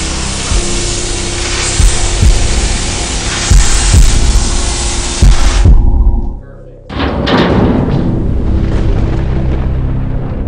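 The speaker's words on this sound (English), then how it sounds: "After a quick setup, the Slice torch ignites in a flash." Arcair Slice cutting torch for fire and rescue work igniting and cutting, giving a loud hissing roar broken by sharp pops and thuds, a brief pause, then the roaring cut resumes.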